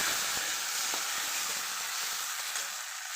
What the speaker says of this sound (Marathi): आता यामध्ये टोमॅटो त्याला पण छान परतून घेणार आहे